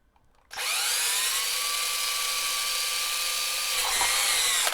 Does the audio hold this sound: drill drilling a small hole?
yes